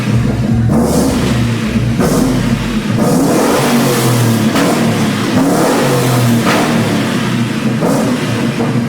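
A 2001 Ford Mustang Bullitt with a single-turbo Coyote engine revs loudly and continuously, the engine note rising and falling in several pulls close to the microphone with no talking.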